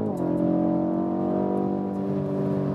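BMW M850i coupé V8 engine pulling hard on a racetrack in Sport Plus mode, a steady loud rising drone with strong harmonics, close and continuous, no talk over it.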